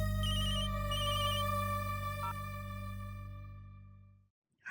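A telephone ringtone plays steadily in a domestic setting, a repeating electronic melody with a bright tonal pattern that fades out before stopping.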